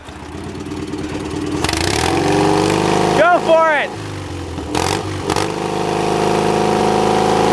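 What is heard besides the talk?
tractor engine revving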